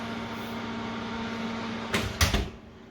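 A carrot cake pan goes into the oven: faint kitchen hum gives way to two sharp clunks close together near the end as the pan slides in and the oven door shuts.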